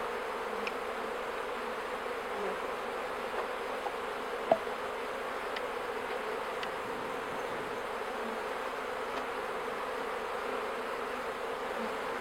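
Honeybees drone in a steady, moderate hum around a hive while a spring colony is moved from a nucleus box into a full hive, with no talk and a single faint click.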